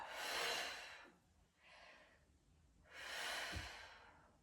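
Long, airy breaths during a yoga gate pose, close to the mic: a full exhale, a quieter inhale, then another strong exhale ending in a soft nasal puff.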